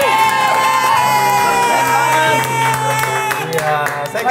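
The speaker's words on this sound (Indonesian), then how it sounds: "Tepuk tangan untuk wakil rakyat kita." Studio audience at an Indonesian TV talk show claps and cheers loudly and steadily, with whoops and shouts throughout the whole stretch.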